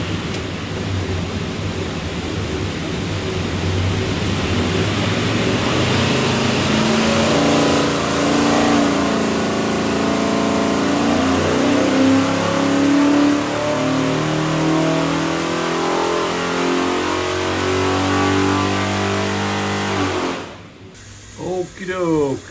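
A 427ci Ford FE V8 with an Edelbrock manifold, Quick Fuel carburetor and MSD distributor, in a '66 Fairlane build, roars on a dyno pull. The loud engine climbs steadily in pitch for about twenty seconds, then cuts off abruptly.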